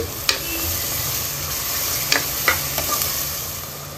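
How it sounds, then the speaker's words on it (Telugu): Chopped onions with a little salt fry in a pan for a goat-head curry, a steady sizzle broken by a few sharp clinks and scrapes of stirring. "మనకు ఉల్లిపాయ ముక్కలు తొందరగా ఫ్రై అవ్వాలి కాబట్టి కొంచెం ఉప్పు వేసుకున్నాము, తొందరగా ఫ్రై అవుతాయి"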